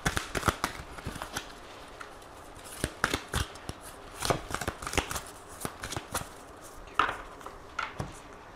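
Oracle cards from an Aphrodite deck are shuffled by hand close up, a quiet series of papery riffles and crisp flicks coming in irregular bursts, with no talking.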